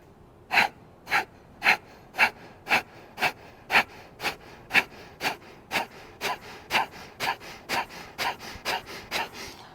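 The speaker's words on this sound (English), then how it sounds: "when I rapidly squeeze, it tightens up my center and it just pushes air out of me" Rhythmic, forceful breathy exhalations pushed out by rapid core squeezes puff out about twice per second, close and steady, each a short sharp burst of air, continuing for around twenty repetitions.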